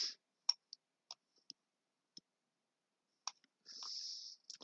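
A computer mouse clicks sparsely while someone works in SolidWorks software: roughly eight quiet, close single clicks spaced irregularly, with a brief soft hiss in between.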